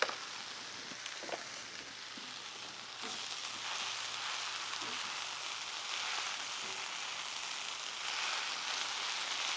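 Spinach wilting down in a hot pan for green shakshuka gives a steady, close frying sizzle, a bright continuous crackle with faint stirring clicks and no voices.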